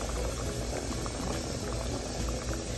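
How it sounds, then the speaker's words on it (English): Peas with seasoning in a pot at a full rolling boil, a dense, steady roar of bubbling liquid that stays even and close throughout, with no voices. "I brought the peas to a boil"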